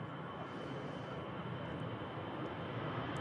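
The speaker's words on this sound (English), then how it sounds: "EasyJet A319 from Malaga." An EasyJet Airbus A319 arriving from Malaga, a low, distant steady jet rumble that stays faint and even with no voices.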